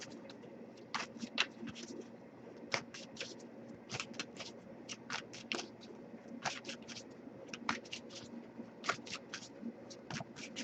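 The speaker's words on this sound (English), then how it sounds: "I'll give it a few more shuffles." Oracle cards are shuffled by hand up close, producing a steady series of crisp flicks and papery snaps in irregular bursts over a quiet background hum, with no talking.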